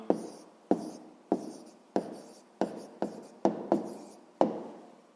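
Pen writing on paper during a sixth-grade maths exercise: nine short scratchy strokes in quick succession, each starting sharply and fading, close and fairly quiet with no talk.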